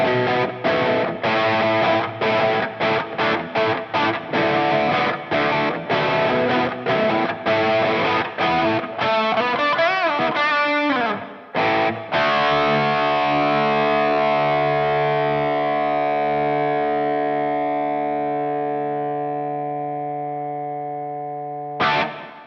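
A 1978 vintage electric guitar played through distortion effects: choppy rhythmic chords and a fast wavering run, then one big sustained chord that rings out and slowly fades, loud and close with no voices.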